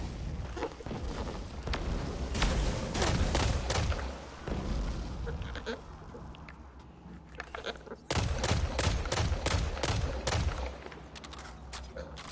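Gunfire in the Destiny 2 video game, with repeated sharp shots and bursts of return fire in clusters, moderately loud, with busy game effects between volleys.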